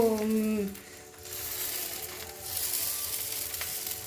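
Thin batter for old-style chakli ladled into a hot pan, giving a steady crackling sizzle that starts after a brief tonal bit and then holds at an even level.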